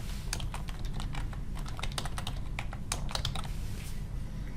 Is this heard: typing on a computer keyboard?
yes